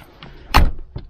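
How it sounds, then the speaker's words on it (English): A door swings shut with one solid thump on a winter day in icy Svalbard, followed by a softer knock, against faint background noise. "Wait, we need to close the door."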